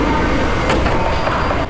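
Pikachu-themed train arriving at Taipei station, a steady loud rumble of wheels and motors filling the platform with faint squeals and clatter on top, no voices.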